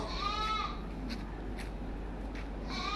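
A five-month-old Hyderabadi double-colour cross female goat kid bleats, with two or three nearby calls at the start, middle and end over a steady outdoor hum.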